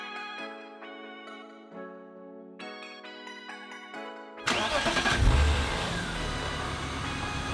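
Car engine at a supercar meet cranks and catches after a stretch of melodic ringtone-like tones, then settles into a loud, close idle with a low rumble that holds steady to the end.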